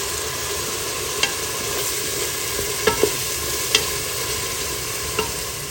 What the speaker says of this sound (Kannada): ಹಸಿ ವಾಸನೆ ಹೋಗುವವರೆಗೆ ಇದೆಲ್ಲವನ್ನು ಸ್ವಲ್ಪ ನಾವು ಹುರ್ಕೊಂಡ್ಬಿಡೋಣ.